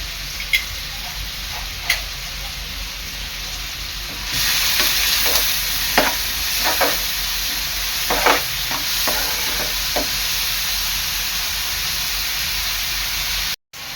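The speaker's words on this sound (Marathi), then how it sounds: "कांदा आहे ना आपल्याला चांगला शिजवून घ्यायचा आहे" Chopped onion fries in a pan with a steady, loud sizzle and hiss that swells after a few seconds, broken by scraping spoon strokes as it is stirred; nobody speaks.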